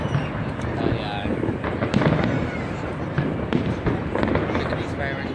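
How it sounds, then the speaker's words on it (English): Fireworks crack and boom repeatedly at a December New Year's display in Sacramento, loud sharp bursts in irregular succession, with people talking over the noise nearby. "There's the fireworks behind us on the top part."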